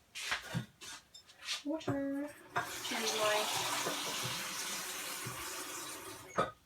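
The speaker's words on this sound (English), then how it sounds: "I'm just going to add some more water" Tap water runs into a jug being filled for water kefir, starting with a few clinks and splashes and then settling into a steady, close rush of pouring that fills most of the clip.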